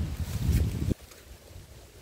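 Strong wind gusts across a vegetable garden, a heavy rumbling buffet against the microphone that cuts off abruptly after about a second, leaving a faint airy hiss.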